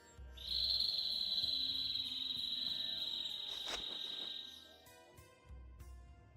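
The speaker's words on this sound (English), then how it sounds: "A bird? In this desert? It sounds close." A bird call in a desert in the Tales of Vesperia video game rings out as one long, loud, sustained high whistle held for several seconds, then fades, with soft game ambience underneath.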